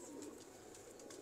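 Paired pet pigeons kept through hot weather coo softly and faintly in a brief, steady murmur with no talking.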